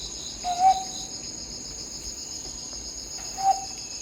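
Two short whistled hoots from a guide imitating a scops owl, about three seconds apart, over a steady chorus of insects at night.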